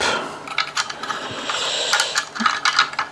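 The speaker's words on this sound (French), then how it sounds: "il faut retirer l'écrou et ensuite on le remet" A ratchet wrench loosening and then refitting a nut in a cramped spot, giving quick bursts of clicking pawl ratcheting and metallic handling noises, close up with no talking.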